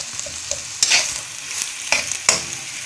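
Onions browning in a pan with green chillies for bhindi masala, a soft steady sizzle broken by several sharp scraping stirs of a spoon at irregular intervals, close by with no talking.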